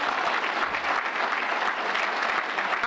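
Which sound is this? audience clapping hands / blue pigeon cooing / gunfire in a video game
audience clapping hands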